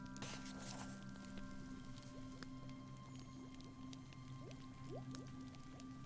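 Alchemy ingredients being stirred in the puzzle game Escape First Alchemist, soft wet squishing and dripping sounds repeating over a steady low ambient hum.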